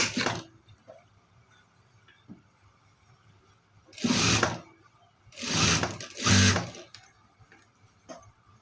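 A sewing machine stitching a folded border onto a chudidar, a few short whirring bursts of running stitches separated by quiet pauses and faint handling clicks.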